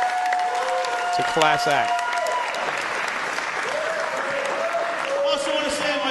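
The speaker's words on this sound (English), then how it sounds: "Give yourselves a round of applause." Crowd applause and cheering fill the room at an independent wrestling show, continuous clapping while someone talks over it and other voices shout.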